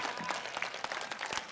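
An audience at an International Day of Yoga celebration breaks into a round of applause, with dense, continuous clapping from many hands filling the space evenly throughout.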